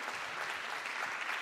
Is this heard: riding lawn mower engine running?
no